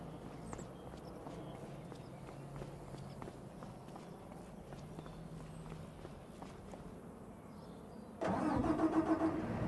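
A vehicle engine starts up in the Farming Simulator 25 game on a German mega farm during silage time, a sudden louder mechanical rumble near the end after quieter clicks and steps.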